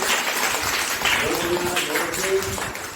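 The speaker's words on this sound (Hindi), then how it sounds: "आप ताली बजाइए" A group of children claps steadily and fairly loudly for a few seconds in a classroom, with voices mixed in.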